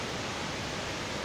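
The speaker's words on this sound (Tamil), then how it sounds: "இப்போ பாருங்க அருவி தெரியுது பக்கத்தில் வந்துட்டோம்." A waterfall near a forest trail in Kovai Kutralam, Coimbatore, gives a steady, dense broadband rush of falling water, constant and fairly loud with no voices.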